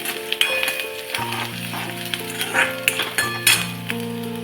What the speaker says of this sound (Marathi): त्याच्यामध्ये घालूया आपण आलं लसूण पेस्ट। ती सुद्धा छान आपण परतून घेऊया।